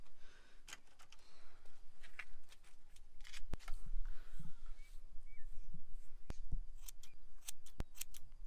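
Scissors snip through hair during a home haircut, a series of close, crisp clicks arriving irregularly every second or so over a soft background hiss.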